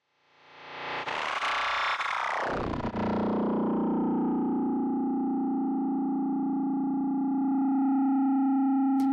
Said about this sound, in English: all of a sudden, you get a big wash of delay sound that you didn't anticipate.